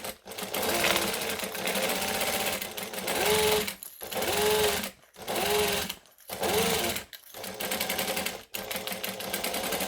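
A sewing machine back-stitches a handbag in loud, steady motor-driven runs, stopping and restarting several times with short pauses between bursts.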